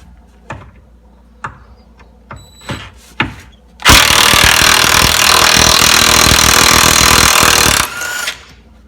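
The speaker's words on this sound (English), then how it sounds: "I'm just gonna put the impact on them and try to bring them out." An impact wrench works at seized bolts on a 1994 Ford Ranger: several short clanks and taps, then a loud, sustained hammering rattle of about four seconds, ending with a brief final burst.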